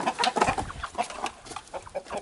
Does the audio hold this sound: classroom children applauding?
no